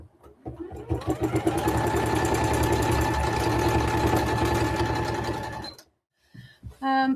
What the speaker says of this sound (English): I'm just going to stitch it from there to there.